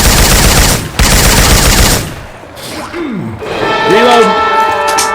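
Syphon Filter weapon effects fire inside Left 4 Dead 2: about two seconds of loud, rapid automatic bursts, then quieter in-game sounds with rising and falling voice-like tones.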